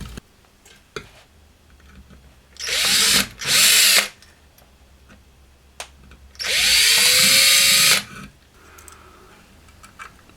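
A power drill widens a bolt hole during work on a Marshall JTM45 Bluesbreaker amplifier, whirring in three loud bursts, two short ones and then a longer run, with the motor pitch sliding as it spins up and down near the listener.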